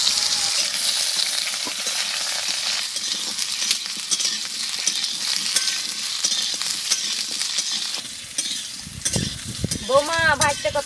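Potatoes frying in mustard oil in a wok, a steady loud sizzle and crackle throughout, easing slightly near the end as a brief tonal clatter rises.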